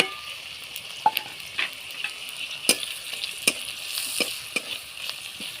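Green chillies and five-spice sizzle in a hot pan, a steady fry broken by several sharp stirring clinks and scrapes.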